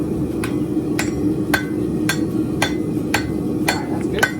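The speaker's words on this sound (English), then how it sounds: "Alright, so now we're going to hammer right there." A hammer strikes hot metal at a forge in the shop. Eight sharp, evenly spaced blows ring out over a steady background roar, heard close with no talk.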